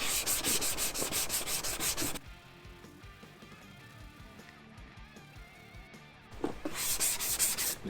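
Hand rubbing down paint on a Mazda MX-5 car bumper to reveal guide coat, a rapid, close scratchy back-and-forth scrubbing that pauses midway and then resumes.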